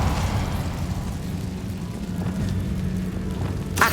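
An Incendio fire spell cast in Hogwarts Legacy gives a steady, rushing roar of flame throughout, moderately loud, ending in a brighter crackling flare.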